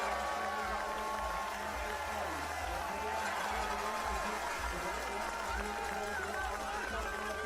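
A large crowd at a women's pursuit biathlon race at Oslo Holmenkollen cheers in a steady, dense roar that runs throughout, with a commentator talking over it.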